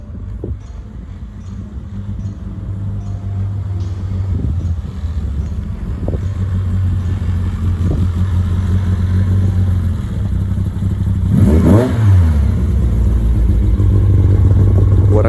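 An MK1 car with new wheels and raised front coilovers drives past outdoors, its engine a steady mid-range drone that swells and fades as it passes, with a brief louder burst near the end.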